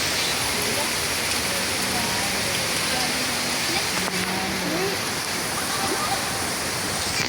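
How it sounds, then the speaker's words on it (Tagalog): Steady, dense rain pours down continuously with a hissing wash, loud and close, while voices murmur faintly beneath it. "Di kami makapag-tiktok kung umuulan."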